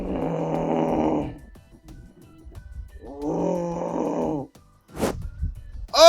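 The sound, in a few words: person imitating snoring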